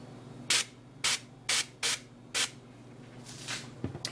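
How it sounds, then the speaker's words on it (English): Aerosol spray misted onto a candle mold in five short, sharp hisses of even length, fairly close, followed by faint handling clatter. "And I'm going to give this a spray here"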